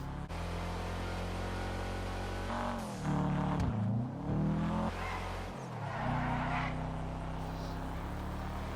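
A Sultan, a rally-style four-wheel-drive sports car in GTA 5, drives with a loud continuous engine drone, pitch dipping and rising through gear changes and cornering, with no talking.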